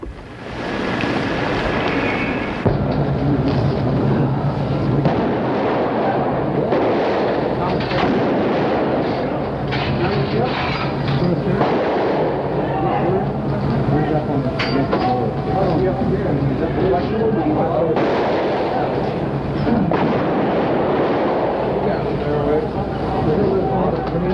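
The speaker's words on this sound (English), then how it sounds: "shots rang out once more" Gunfire from a 1965 pawnshop shootout in San Diego crackles in archival footage, heavy reports and booms recurring under a narrator's continuous voice over a harsh, noisy background.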